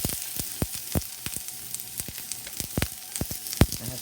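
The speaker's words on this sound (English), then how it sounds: "I have my other oil ready for the toton. I'm gonna add the onion first." Chopped onion sizzling in hot oil, a soft steady crackle with scattered sharp pops and spatters, close and fairly quiet.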